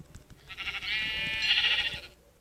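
A cow in a video game bellows and moos after being hit, a drawn-out nasal bleating cry lasting over a second, preceded by faint clicks of gameplay.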